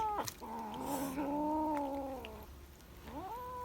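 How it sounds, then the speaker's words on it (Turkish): A kitten gives a long, drawn-out wailing meow, then a shorter rising meow follows, close and clear with no talking. "Bir kedi daha geldi."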